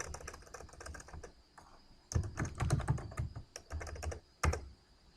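Typing on a computer keyboard, with rapid, close clacking keystrokes in uneven bursts and brief pauses, growing louder and denser midway.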